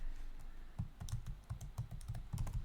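Keys clatter on a computer keyboard while text is entered into a report, a quick, fairly regular run of soft nearby keystrokes with no talking.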